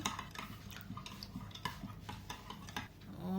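A spoon stirs sugar into a Jamaican sorrel drink until it dissolves, giving repeated scraping clinks against the container in a steady rhythm, close and moderately loud, with no voices.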